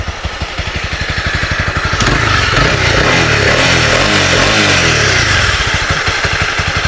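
A Honda CB300R motorcycle's exhaust rumbles close by, a steady idle pulse rising into a sustained rev for several seconds before settling back to a rhythmic idle.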